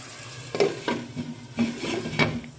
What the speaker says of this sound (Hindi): तो पानी डाल के थोड़ा सा इसको दम दे देंगे